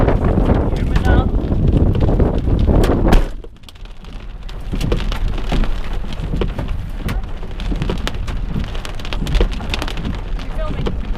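Heavy rain mixed with hail pelting surfaces during a violent storm, a loud dense clatter that drops briefly and then returns, with wind gusts and a person talking over it.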